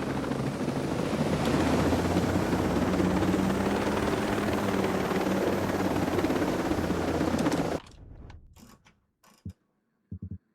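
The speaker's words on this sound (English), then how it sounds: "Get to the chopper." A helicopter in the video game Ghost Recon Breakpoint gives a loud, continuous rotor roar with a throbbing low drone for about eight seconds, then cuts off abruptly and leaves a few brief clicks and mechanical bursts.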